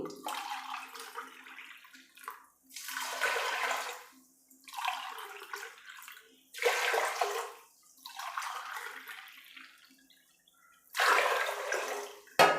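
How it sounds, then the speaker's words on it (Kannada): Cupfuls of water splash into a pot of rice and avarebele (field bean) lentils for pongal, in several separate close pours with short quiet pauses between them. "ಇದರಲ್ಲಿ ಮೂರು ಲೋಟ ಆಗೋಷ್ಟು ನೀರು ಹಾಕ್ತಾಯಿದ್ದೀನಿ"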